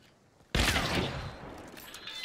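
A single loud gunshot from the video game Hunt: Showdown cracks out and trails into a long fading rumble.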